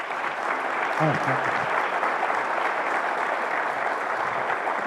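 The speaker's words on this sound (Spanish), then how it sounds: "para quienes pido, por favor, un fuerte aplauso" A business summit audience delivers strong, sustained applause that fills the room evenly, with a brief spoken word from the stage underneath.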